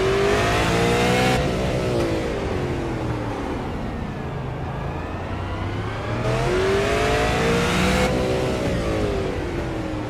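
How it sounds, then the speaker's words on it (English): A race car engine roars and revs continuously during a short-track oval race, pitch rising and falling through gear changes, loud and close throughout. "Hear the engine tick just a bit."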